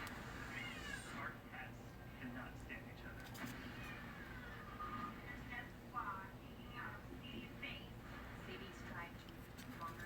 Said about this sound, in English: 13-year-old feral cat that I rescued a year ago.